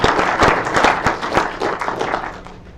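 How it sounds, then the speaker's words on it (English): Round of applause at a university seminar introducing a guest, a room of hands clapping loudly with distinct individual claps standing out, tapering off toward the end. "if you could introduce him with a round of applause"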